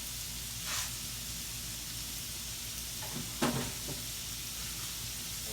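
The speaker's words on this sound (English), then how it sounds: "Just sauteing all." Finely diced vegetables, cut small for a cornbread, brioche and apple stuffing for pork chops, sauté in a pan with a steady close sizzle and hiss, broken by a couple of brief stirring scrapes.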